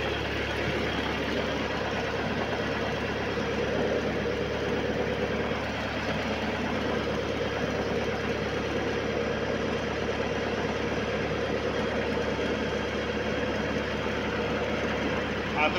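A mini loader's engine runs steadily as the machine drives, a continuous mid-low drone with no breaks, close and fairly loud.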